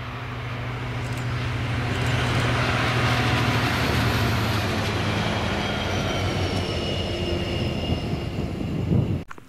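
A DRS freight train hauled by locomotives 66301 and 66302 rumbles past at Carluke, loud and close, with a steady low engine drone and wheel noise that swells, holds, then cuts off abruptly.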